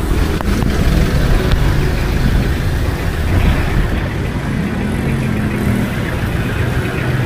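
Cars idle and creep through heavy road traffic on Aguinaldo Highway near Imus, a loud, continuous engine rumble with low droning hum close by.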